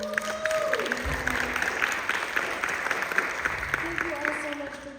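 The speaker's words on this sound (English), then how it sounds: "Please give all of them a round of applause." Audience at a science academy panel applauds, a soft spread of clapping with a speaker's voice heard over it at moderate distance.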